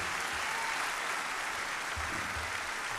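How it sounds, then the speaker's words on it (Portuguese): A church congregation at a symposium applauds in a dense, continuous roar of clapping that fills the room evenly from start to finish, heard from some distance and without any voices over it. "Vamos aplaudir o Senhor Jesus."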